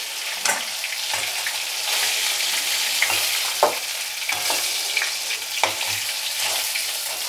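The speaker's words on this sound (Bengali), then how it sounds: "মাছগুলো ভালো করে ভেজে নেবো।" Fish fries in a pan with a steady, bright sizzle, broken by occasional stirring scrapes and spatters, close and continuous with no talk.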